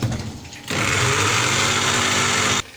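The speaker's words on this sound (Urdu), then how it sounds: "ہم تھوڑا سا پانی ایڈ کریں گے اور اس کو کر لیں گے گرینڈ" An electric grinder whirs into action on masala with a little water added, a loud high-pitched motor whine that starts abruptly, runs steadily for about two seconds, then cuts off.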